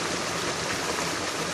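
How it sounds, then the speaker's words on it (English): Flowing stream water rushes steadily and close by as a gold pan is dipped in while prospecting, a constant broadband wash with no clear splashes standing out. "the first thing I do is get the pan down the water"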